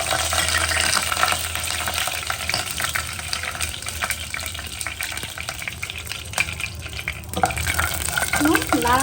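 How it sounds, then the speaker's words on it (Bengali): Dry whole spices hit hot oil in a cooking pot, giving a steady loud sizzle with scraping stirs throughout and a brief clink near the end. "এখন আমি প্রথম শুকনো মশলাগুলো দিয়ে দেব।"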